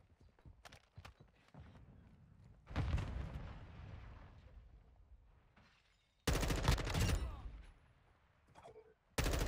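Gunfire in the video game Call of Duty: rapid bursts of automatic fire and sharp sniper shots, loud and close, with quieter stretches between the volleys.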